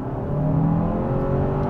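Hyundai Santa Fe SUV (2024 SE, wet dual-clutch transmission) accelerating hard in second gear, a steady loud engine drone with rising harmonic tones heard from inside the cabin, no voices.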